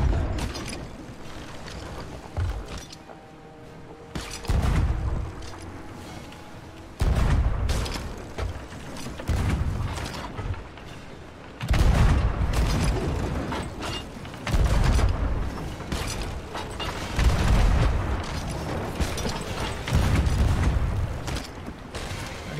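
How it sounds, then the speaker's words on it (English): Ship cannons fire in the pirate video game Sea of Thieves, a series of heavy booms at irregular intervals over creaking wooden ship and mechanism sounds. "get ready to fire, guys"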